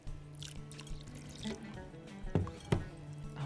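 Cold water is poured into a tahini-style herring salad, giving a couple of short, close splashes over a steady low hum.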